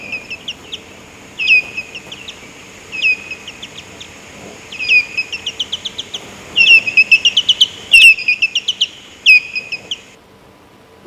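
Time-expanded bat echolocation calls, slowed down, form rapid bursts of rising chirps that come in quick repeated groups, clear and fairly loud against a quiet hiss with no talking.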